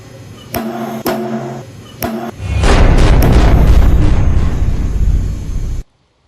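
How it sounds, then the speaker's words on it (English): Test sample in a hydraulic actuator load rig, three sharp cracks at intervals, then a loud sustained roaring burst as the sample fails, cutting off abruptly into silence. "the main hydraulic actuator can begin to apply progressively increasing load until the sample fails"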